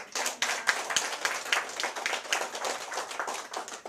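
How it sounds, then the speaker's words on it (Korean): A small seminar audience gives a short round of applause, with uneven individual claps that are fairly close and distinct but fainter than a large crowd's, and no one speaks over it. "따뜻한 박수 부탁드립니다."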